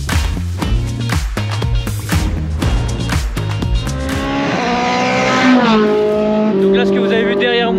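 A Formule Renault 2.0 race car passes on a track, its loud high-revving engine rising and sliding in pitch through quick gear changes as it roars by and fades, with a voice audible alongside.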